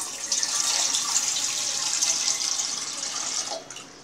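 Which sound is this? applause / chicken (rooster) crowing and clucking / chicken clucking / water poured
water poured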